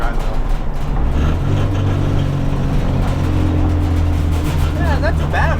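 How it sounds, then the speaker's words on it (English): Turbocharged 1992 Honda Civic EG on the move, loud droning engine and road rumble with a steady transmission whine running underneath, heard from inside the cabin. "I think you hear the transmission kind of whining"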